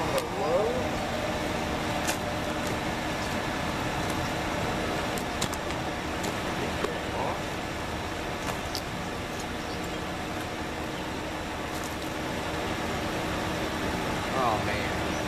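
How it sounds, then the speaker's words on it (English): A dryer blows air into a furnace melting cans into ingots, giving a steady, even roar of rushing air throughout with a few faint clicks. "Okay, let's turn this dryer down to low."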